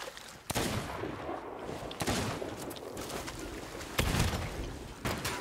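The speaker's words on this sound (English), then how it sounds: "they keep fucking shooting me" Skeletons firing guns in the pirate video game Sea of Thieves, with four loud shots spaced a second or two apart over a dense, noisy backdrop of game sound.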